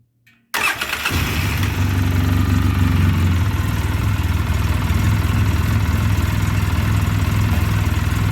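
A 2009 Polaris Sportsman 800 ATV with engine trouble, after sitting six months, cranks and catches, then settles into a loud, steady, slightly uneven idle up close with no talk.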